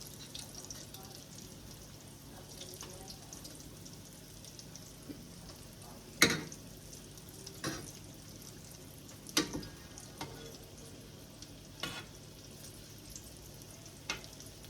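Croquettes frying and browning in a pan give a soft, steady sizzle, quiet and close, broken by a few sharp taps and clinks of the utensil against the pan.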